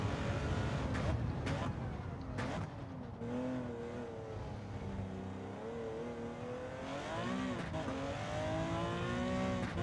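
A Porsche 917 racing car in Gran Turismo 7 at Spa roars at full throttle, its engine note climbing and shifting through gears under steady close talk from a player.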